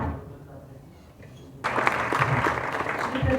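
Applause breaks out suddenly at an Ayurveda conference honouring the AYUSH minister, following a quiet murmur, then a sustained, loud wash of many hands clapping together until the end.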